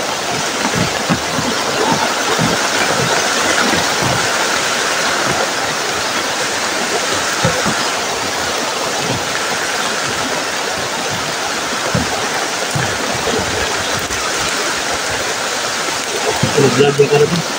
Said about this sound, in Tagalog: Lakas na tayo ng ulan.